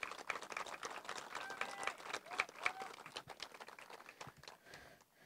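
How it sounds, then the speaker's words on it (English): An audience at a public announcement by West Virginia's governor breaks into a round of applause, dense moderately distant clapping that swells and then tapers off, with some voices mixed in. "let's give his daughter a big round of applause"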